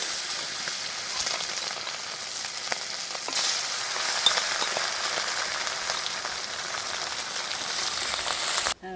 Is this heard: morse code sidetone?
no